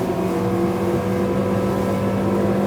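A 21-foot law enforcement boat with 425 horsepower runs at top speed, its engine a loud, steady droning roar with a constant hum, heard from on board without speech.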